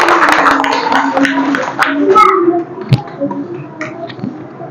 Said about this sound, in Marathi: इथ्यासाठी परत एकदा टाळ्या वाजवायच्या आहेत